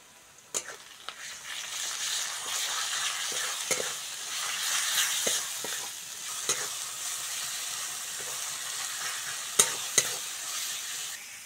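A paste of ginger, garlic, cumin, turmeric, chili powder and salt sautés in a pan for a rustic Bengali fish-head and ash gourd dish. A strong, steady sizzle is punctuated by scattered sharp taps of a stirring spoon, with no voices.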